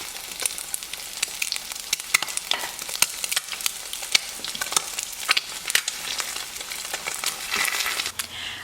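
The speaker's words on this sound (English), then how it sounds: "You can fry the egg until cooked, but I like to fry half cooked so the yolk is still juicy." An egg fries sunny side up in a pan, crackling loudly with a bright continuous sizzle and frequent sharp spitting pops throughout.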